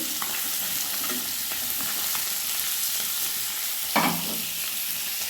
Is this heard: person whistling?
no